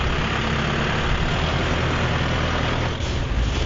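A large farm tractor engine idles with a steady, heavy low rumble that holds fairly loud throughout, with a slight dip near the end.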